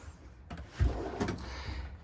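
A drawer in a 2025 K-Z Sportster X 3915X toy hauler RV slides open and shut with a soft thud and a short rumble, followed by a second lighter bump, in a quiet room.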